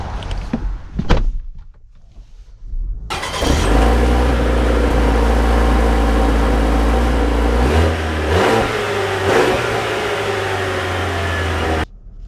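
A 2025 Chevy Traverse RS on a test drive: a door thud and interior clicks, then the engine starts and settles into a steady, fairly loud hum that rises in pitch as the SUV accelerates, close and without talk.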